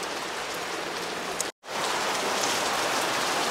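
Heavy rain pouring down loud and close, a dense continuous hiss broken by a brief dropout before resuming just as strong.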